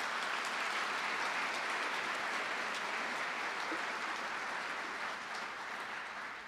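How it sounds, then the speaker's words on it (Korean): Sustained applause from a crowd at a company anniversary ceremony fills the room, a dense, even clatter of clapping that slowly fades slightly toward the end. "많은 격려의 박수 부탁드립니다."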